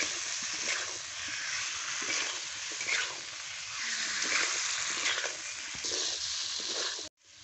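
Potato curry with salt sautéing in a pan, a low, steady sizzle with soft swelling scrapes from stirring, fairly quiet and close, with no talking.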